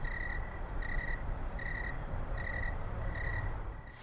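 A frog calls in a steady rhythm, about five short trilling croaks spaced evenly apart, over a continuous low background rumble outdoors.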